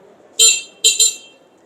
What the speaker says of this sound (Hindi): नीचे हॉर्न का बटन है, प्रेस करता हूँ, हॉर्न की आवाज़ सुनते हैं